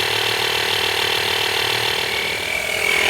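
A portable air pump runs in a continuous, even drone while it inflates a tire on a rare Dodge pickup truck, holding steady and fairly loud for the whole stretch with no pauses.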